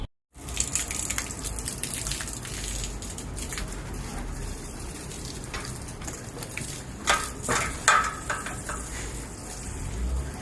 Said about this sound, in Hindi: शुक्र किया है पानी आया है और मैंने पानी दिया है पौधों को